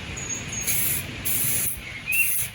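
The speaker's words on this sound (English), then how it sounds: "So we're going to go ahead and spray our second coat" Spray gun hisses in three short bursts as a second coat of paint goes onto a square-body truck, close and steady, with brief pauses between passes.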